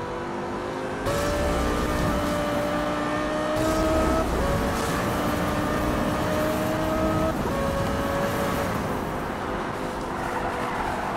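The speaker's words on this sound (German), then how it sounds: "Los geht's mit unserem Audi R8" Audi R8 supercar racing in the Need for Speed Rivals video game, a loud sustained engine drone with gear-shift pitch drops and revving climbs, joined by rushing road noise throughout.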